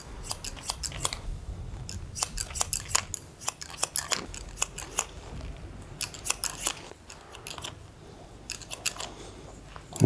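Scissors snipping through hair during a medium-length scissor-over-guide haircut, long on top and short on the sides: quick bursts of crisp, close blade clicks and cuts in an irregular rhythm, fairly faint, with no talk.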